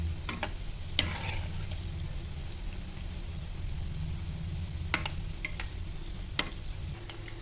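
Shankarpali, the sweet crisp flour snack, frying in oil over a low flame: a steady, soft bubbling sizzle with a few sharp ticks and clicks scattered throughout, no voices.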